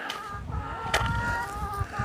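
Backyard hens cluck softly in a garden among small, steady outdoor noise, with a brief sharper sound near the middle and no clear talking.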